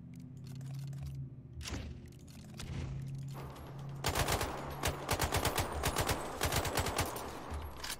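Rapid bursts of AK rifle fire in the video game Sniper Ghost Warrior Contracts, loud and close, rattling in quick clusters over a steady low game hum after a quieter opening.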